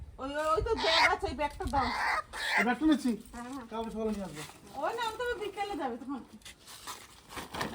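Sonali and local country chickens cluck and call close by in repeated bursts, with people's voices mixed in.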